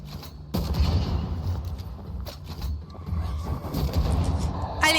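Rifle shots in the video game Banishers crack out in a few sharp bursts over a low mechanical hum and rumbling game ambience.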